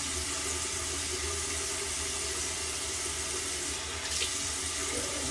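Tap water runs steadily to wet a Brazilian deep wave hair wig, a continuous close hiss of flowing water in a sink with a brief splashy change near the end, no talking.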